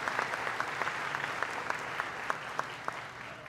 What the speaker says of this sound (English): Give the mayor a big round of applause.